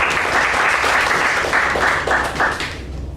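Meeting attendees give a brisk round of applause, close and dense clapping that holds steady and then thins out toward the end.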